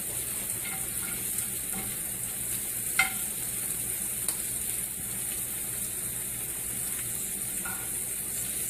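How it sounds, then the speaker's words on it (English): Shrimp fry in a hot pan with a steady, even sizzle across the whole stretch, broken by a few soft taps and one sharper clink near the middle, with no voices. "Make sure they all flip over. You don't want a half-cooked shrimp."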